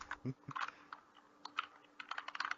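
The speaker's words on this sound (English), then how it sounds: "Stop typing." Rapid clicking keystrokes on a computer keyboard, steady and close, with a couple of heavier taps early on.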